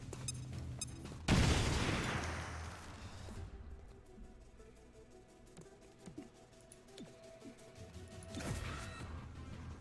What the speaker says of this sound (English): Tossing frag.